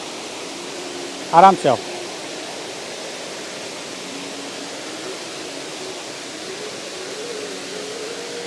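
Limdarha waterfall at Keshkal, a steady, even rush of falling water filling the whole scene at close range, briefly interrupted by a short spoken phrase near the start.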